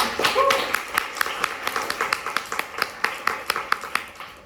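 An audience at an Earth Day talk on music and nature claps for a speaker, a thinning round of individual claps that trails off into scattered taps.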